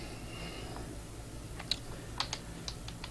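Someone types a password on a computer keyboard, producing a few sparse, crisp key clicks over a quiet background hum, close by and without talking.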